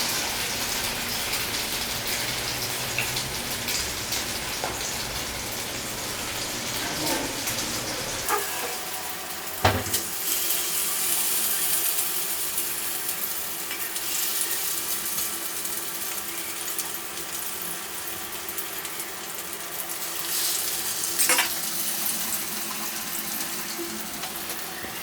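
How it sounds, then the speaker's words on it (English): Battered mutton chops frying in a crowded pan of oil over medium heat give a loud, continuous hissing sizzle that holds steady throughout, with a sharp pop partway through and no voices. "I am going to take each chop and dip it into this batter which I have prepared, and I'm going to fry it"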